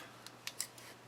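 Three or four crisp snips of scissors close up, short bright cuts spaced irregularly in a quiet room.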